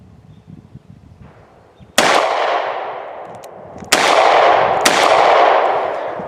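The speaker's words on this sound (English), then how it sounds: "we'll give you a little bit of a first person view of what it's like to shoot this gun here" Two loud .38 Special revolver gunshots fired in double action from a first-person shooting position, each a sharp blast with a long ringing decay, plus a third crack close behind the second, after quiet background rustling.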